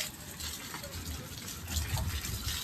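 Water pours onto garden plants, including rose bushes, in a steady, close rushing stream that swells slightly louder toward the end.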